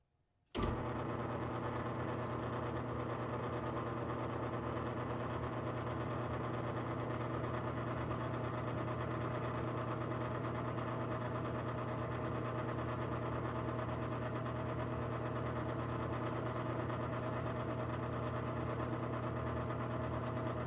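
A machine folding over brass cartridge case rims runs with a steady, continuous mechanical hum and whir, starting abruptly and holding an even tone throughout, with no voices.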